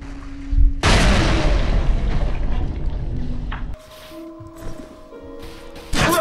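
A grenade blows up in the shooter game Fear Online with a loud, sudden boom that roars and rumbles for several seconds before fading into quieter gunfire and game noise.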